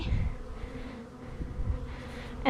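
Bees drone briefly and continuously from an open nucleus hive, a soft close hum with slight handling noise at the start and end.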